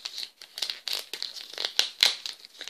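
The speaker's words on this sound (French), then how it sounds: "J'aurais peut-être dû prendre un ciseau, pas tout arracher, pas tout abîmer" Wrapped swap package torn open by hand, a close run of sharp paper rips and crinkly crumpling that come in uneven bursts with brief pauses between them.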